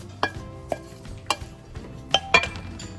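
Gongura paste gets stirred into fried ginger-garlic paste for gongura mutton, a spoon clinking and scraping against the pan in several sharp knocks amid a soft sizzle, with no talk.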